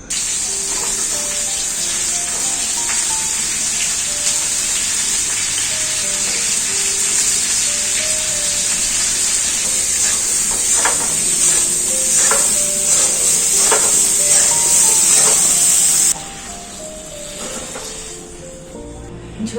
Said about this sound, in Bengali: এরপর ঝিঙেগুলো ভেজে নেব